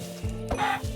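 Chickens clucking in the Minecraft video game, a few short close clucks in quick succession, clear and not under talk.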